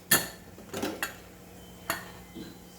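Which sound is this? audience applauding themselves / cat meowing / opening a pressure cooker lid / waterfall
opening a pressure cooker lid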